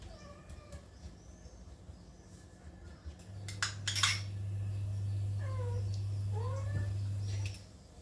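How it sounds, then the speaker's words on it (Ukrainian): A cat meows a few times at moderate distance, short rising cries spread across the clip, while a low steady hum drones underneath. "Воно тут кіт на задньому плані."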